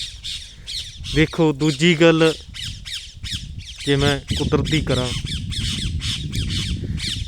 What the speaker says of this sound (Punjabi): ਜਿਹੜੀ ਆਵਾਜ਼ ਆਉਂਦੀ ਹੈ ਇਹ ਪੰਛੀਆਂ ਦੀ ਹੈ